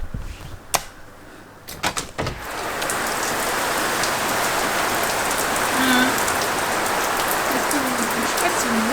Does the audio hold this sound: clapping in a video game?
no